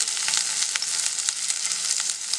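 Prawns for a curry sizzling in a hot pan, a steady, close crackle and hiss with small pops throughout, no voices.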